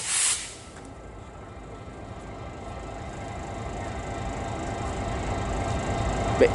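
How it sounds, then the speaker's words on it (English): A distant train passing produces a steady low rumble and hiss that slowly builds, with a short sharp burst at the very start. "It might be a freight train."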